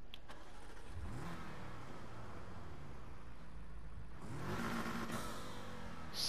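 A V8 sports car engine in the Need for Speed racing game revs up repeatedly, a loud continuous roar that surges and climbs in pitch, with no voices over it.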